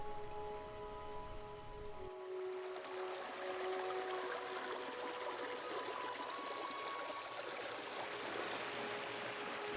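Brook water trickling steadily through an icy winter forest preserve, a continuous close wash of flowing water with faint tonal hum underneath and a low rumble dropping away early on.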